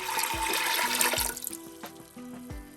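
Water pours and splashes into a pressure cooker holding chana dal, a gurgling stream that thins out after the first second or so, with a few clinks and plops heard near the end.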